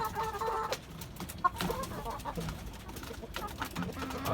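Tiger breed chickens on a rooftop cluck in soft, scattered calls at close range against a quiet background.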